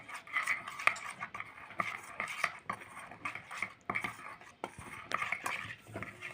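A spoon stirs ghee and flour into a batter in a metal bowl, making quick, rhythmic clinks and scrapes that are close and fairly quiet, with steady repeated strokes.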